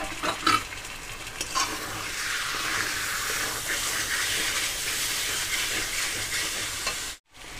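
Chopped pieces of goat fat fry in a pan with spices, a dense continuous sizzle and hiss up close, with utensil scrapes and knocks early on and a brief dropout just before the end.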